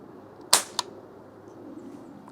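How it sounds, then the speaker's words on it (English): A trigger pull test on a Barra Junior 1866 air rifle with a Wheeler trigger gauge in a backyard, giving one sharp, close mechanical snap followed a moment later by a smaller click, over steady outdoor background. "Got the Wheeler trigger gauge here. Do a little trigger pull test with this."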